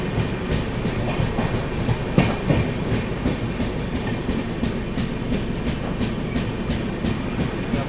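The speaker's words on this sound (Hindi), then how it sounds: "यहाँ पर अभी फ़िलहाल अपनी ट्रेन दोस्तों स्किप कर रही है पनकी धाम रेलवे स्टेशन को" The Suhaildev Superfast Express rushes through Panki Dham station without stopping, a steady loud rumble with rhythmic clickety-clack of wheels over rail joints throughout.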